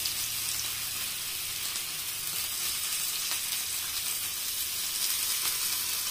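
Homemade fish cutlets fry in hot oil with a continuous, even crackling sizzle heard up close, with a faint clink or two and no speech.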